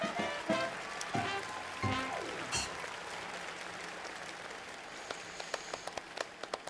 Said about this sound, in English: now she's clapping.